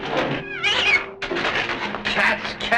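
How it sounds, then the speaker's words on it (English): A cat meows loudly and repeatedly, with drawn-out, wavering cries close by, mixed with other voices and background sounds in an old radio drama scene. "Cats again."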